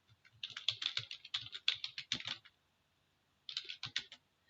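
Rapid clicks of typing on a computer keyboard, close and fairly quiet, in a quick irregular burst, a pause of silence, then a few more keystrokes.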